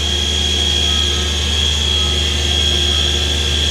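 A Takisawa MAC-V40 machining center with its spindle spinning at 4,500 RPM, a steady, loud high-pitched whine with constant mechanical hum underneath, unchanging throughout.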